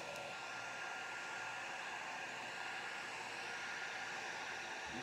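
A heat gun blows a steady, even rush of hot air over resin for Christmas star pieces, a constant hiss with no pauses.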